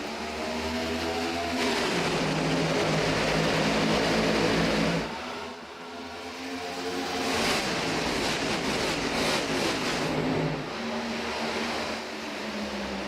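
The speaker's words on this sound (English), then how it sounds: "Nearly 40 engines roaring to life for the first time here tonight at Kansas" A field of nearly 40 stock cars roars at Kansas Speedway in a FastTrack Cup Series racing game, a dense, loud, steady engine drone that dips briefly midway and swells again.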